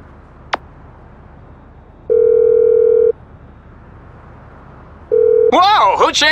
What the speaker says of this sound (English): Whoa, who changed my ringtone?